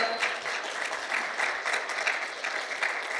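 Steady audience applause welcoming actor Jang Hyuk onto the stage at a KBS2 historical drama press event, dense continuous clapping with no talk, fairly even in loudness throughout.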